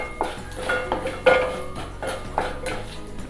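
A spoon stirs hing and turmeric around a pan for Puneri misal, giving several light metallic scrapes and clinks in an uneven rhythm, close and moderately quiet.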